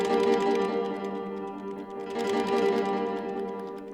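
Keys clack on a Korg nano Studio Bluetooth/USB MIDI controller, with quick rapid taps heard close to the mic under sustained synth notes.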